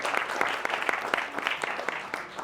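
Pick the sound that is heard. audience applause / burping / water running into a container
audience applause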